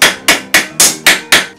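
A small ball peen hammer strikes the rivets of a steel helmet six times in a steady rhythm, each blow a loud, close, bright metallic clang that rings out briefly before the next.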